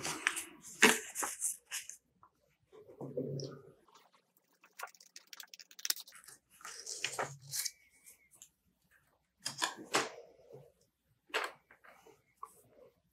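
Fabric scraps being cut for a placemat, with scissors making intermittent crisp snips and soft rustling in short bursts that are close and fairly quiet, separated by near-silence.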